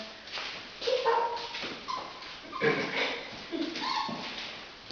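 A Havanese puppy whimpers and yips in a string of thin, high whines and short squeaky cries, close by and fairly soft, with faint voices in the background.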